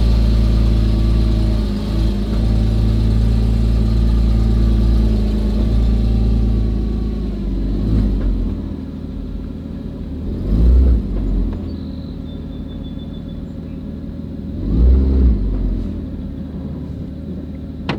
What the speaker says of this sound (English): as well as a couple exhaust revs